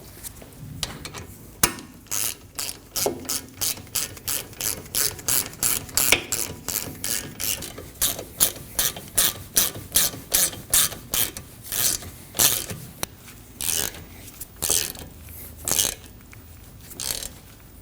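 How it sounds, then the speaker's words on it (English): A ratchet tightening the rear brake caliper guide pins on a Ford Edge, sounding as steady, close bursts of rapid clicking, one burst per back-and-forth stroke, repeating in a regular rhythm with no talk. "It's good to get both pins started before you tighten each one down."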